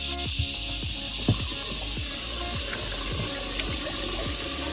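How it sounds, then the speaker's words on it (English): An aerator pump bubbles in the water of a fishing catch tank, a continuous gurgling hiss with scattered drips and small splashes. It is close and steady, with no voices. "let's turn on the aerator."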